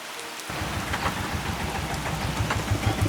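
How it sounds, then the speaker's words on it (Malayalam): Steady rain falls on a river check dam seen from a bridge, making a dense, close hiss of drops on water and surfaces that does not let up. "പാലത്തിന് മുകളിൽ നിന്ന് മഴ പെയ്യുമ്പോൾ ചെക്ക് ഡാമിലേക്ക് നോക്കുമ്പോൾ കാണാൻ കഴിയുന്നത്"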